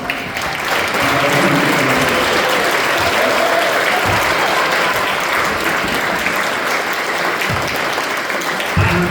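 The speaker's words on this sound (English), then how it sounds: "can we please put our hands together for Jake and his" A room full of people at an under-12 football club's end-of-season presentation clapping loudly and steadily for a coach and his team, the dense applause sustained throughout with faint voices underneath.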